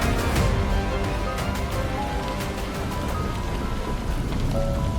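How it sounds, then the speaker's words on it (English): Steady, dense rain falling and pattering on surfaces, a constant close hiss with occasional distant thunder-like rumble, no voices. "It started with the sound of rain, then water, rushing, swallowing."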